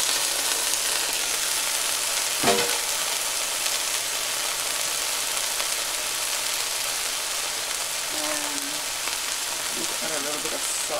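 Peppers fry in a hot pan with a loud, continuous sizzle, close by, broken by a few scrapes and clinks of stirring and a brief voice.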